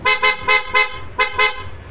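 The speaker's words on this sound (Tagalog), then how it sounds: "Tapos busina nito, PIAA, busina pogi" A PIAA horn fitted on a motor scooter blares in six short, loud, evenly spaced honks, close up, with no voices.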